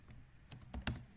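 Several quick keystrokes on a computer keyboard, close and crisp, a short irregular burst of clicks with the last two loudest, no talking.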